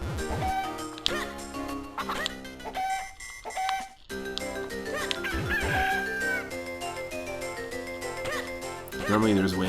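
Chickens cluck and a rooster crows in Zelda: Minish Cap, game sound effects layered over the game's music and other game sounds.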